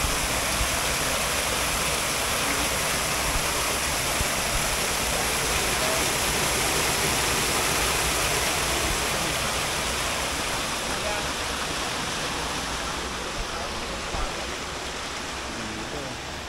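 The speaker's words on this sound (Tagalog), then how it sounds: "Lakas ng tubig mga master oh." A strong, clear stream in San Jose, Batangas rushes steadily over rocks, a loud, continuous broadband roar that holds for the whole stretch, nearby, with occasional voices faintly mixed in.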